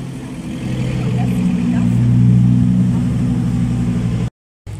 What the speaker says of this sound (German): Hier fahren gerade viele Oldtimer rein, viele sind auch runtergefahren.